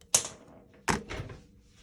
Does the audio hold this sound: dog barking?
no